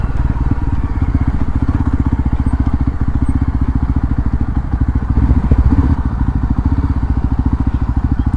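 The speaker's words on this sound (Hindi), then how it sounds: "प्रतीक भाई, पहला गियर, इंजन ब्रेकिंग और पिछली ब्रेक, अगली मत दबा देना गलती से भी।" A Yazdi Roadster motorcycle rolls in first gear on engine braking during a ride near Uttarkashi, a loud, close, rapid thumping exhaust beat with mechanical clatter that holds steady throughout.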